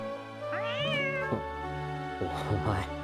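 A cat meows twice, clear and close, over a low steady background hum.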